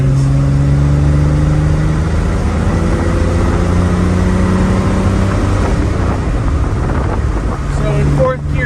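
A 1957 Austin Healey 100-6 BN2 cruises in fourth gear with overdrive engaged, its engine droning steadily under loud wind rush from inside the open car, heard from the passenger seat.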